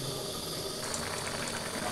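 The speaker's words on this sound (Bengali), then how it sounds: "আমি এবারে এটাকে আমি ঢাকা দিয়ে দেবো আর মোটামুটি মিনিট 10 মতো ফুটতে দিয়ে দেবো, তাহলেই সমস্ত ঝোলটা কিন্তু রেডি হয়ে যাবে" A covered pot of Katla fish curry with vegetables simmering on the stove, giving a steady close hiss of bubbling, with faint rattling, and no talk.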